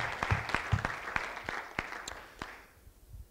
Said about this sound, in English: So a quick round of applause for those guys.